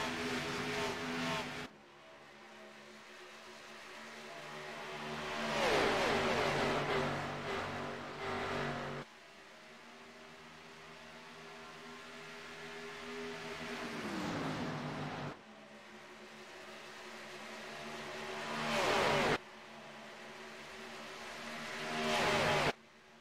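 Race cars, including the number 58, roar around a track in several close passes. Each engine swells and fades as the cars come by, and the revs drop briefly as they back off on the straightaways.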